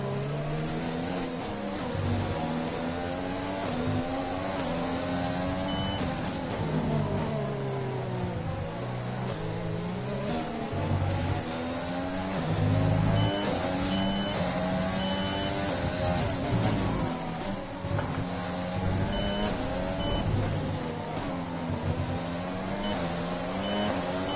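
Formula 1 car engine in the racing game F1 2020 at the Russian Grand Prix, a continuous loud high-pitched whine rising and falling with gear changes and throttle, steady throughout without talk.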